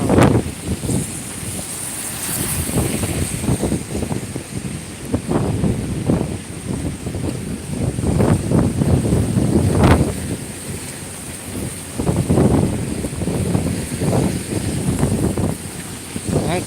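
Strong storm wind beside a churning river in heavy rain, gusting in repeated rough bursts that buffet the microphone, with a constant rushing roar underneath.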